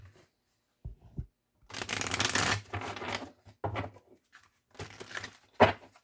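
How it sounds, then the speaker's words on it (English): A deck of cards is shuffled in a few short riffling bursts, close and quiet, separated by pauses and light handling noises. "I can't even shuffle these."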